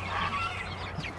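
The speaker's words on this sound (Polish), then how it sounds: "Patrzcie, jakie mam szkolone kurki." Hens clucking and calling near their coop in the evening, a short burst of honking, squawky fowl cries close by over a faint low hum, no voices.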